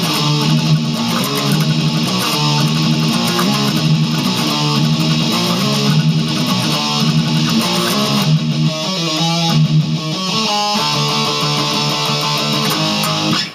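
Electric guitar chugs through a thrash-metal riff at full record speed, a dense, loud, driving stream of fast distorted picking that runs steadily with no talking over it.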